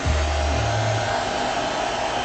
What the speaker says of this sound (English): hair dryer here,